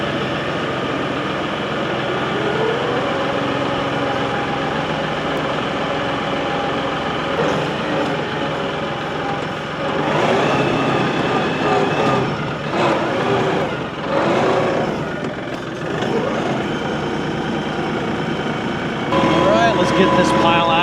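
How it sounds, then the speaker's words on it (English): A tractor engine runs steadily at a wood yard, a loud continuous rumble with a few surges in intensity, while someone talks over it. "let's get the tractor out"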